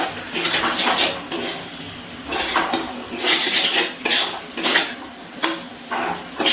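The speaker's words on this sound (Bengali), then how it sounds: "আবারও একটু সব কিছু নাড়াচাড়া করে নিচ্ছি" Jackfruit and fried prawns being stirred in a metal pan, a spatula scraping and clattering against the pan in repeated bursts with short pauses between, close and fairly loud, no talking.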